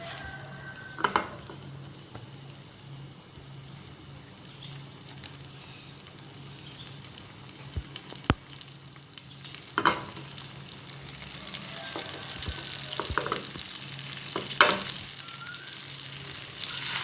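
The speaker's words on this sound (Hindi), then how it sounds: "कबाब अब मैं फ्राई करने लगी हूँ" Vegetable kebabs shallow-fry in a little oil, giving a low, continuous sizzle broken by occasional clinks and scrapes of a utensil against the pan.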